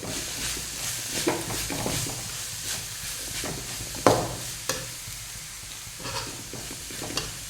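Chilli, cumin and coriander powders stirred into a hot pan while cooking shavige upma, soft sizzling under repeated scraping strokes of a spoon, with a few sharper knocks against the pan.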